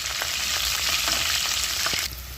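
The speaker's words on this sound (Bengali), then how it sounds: "তাই করলাগুলোকে ভালো করে ভেজে নেব।" Loud, close sizzling of bitter gourd frying in hot oil, a steady bright crackle with a few faint clicks of stirring.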